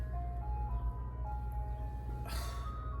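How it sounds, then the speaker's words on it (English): Ice cream truck passing nearby, its tinny jingle melody playing steadily over a rumbling engine, with a brief hiss of noise near the end. "The ice cream truck."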